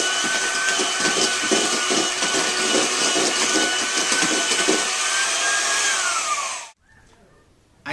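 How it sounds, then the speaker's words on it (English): Electric mixer whirring steadily as it mixes dry dough ingredients, a loud, constant high-pitched motor whine with slight rattling, running for nearly seven seconds before cutting off abruptly. "It says I have to mix for a whole minute."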